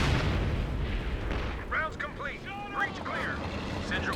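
Artillery shells fire and explode with heavy booming rumbles during a 2v2 Company of Heroes 2 match, the blasts mixed under ongoing voices.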